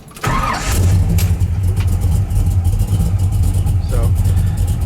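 A 1965 Chevelle Malibu SS with a 427 engine and four-speed gearbox fires up after a brief crank, then settles into a loud, deep, steady rumbling idle close by.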